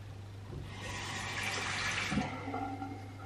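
Water runs steadily from a tap a child has turned on, a soft continuous gush with faint clinks partway through, heard from a little distance.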